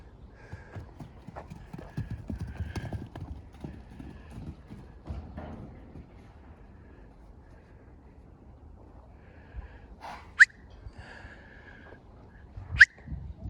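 A small Kazakh-breed foal out on a walk: hooves clip-clop steadily on hard ground, with a couple of sharp high neighs near the end and faint voices in the background.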